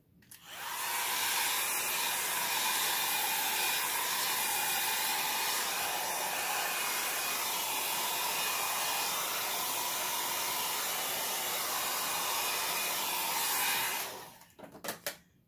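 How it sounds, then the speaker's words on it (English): Conair Volume Series blow dryer drying wet acrylic paint, a steady loud whooshing roar running nearly unbroken for about thirteen seconds before switching off abruptly, with no talk. "Okay, so that was just a blow dryer."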